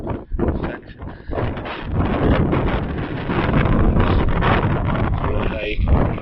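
Strong outdoor wind battering the microphone in a steady, loud roar, with a voice talking through it.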